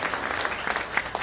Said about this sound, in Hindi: एक बार जरा जोरदार तालियां बजा दीजिए